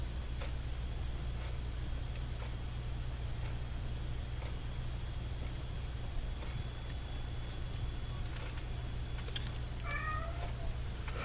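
A hungry cat lets out a short run of meows near the end, faint against a steady low hum and occasional soft ticking in a quiet room.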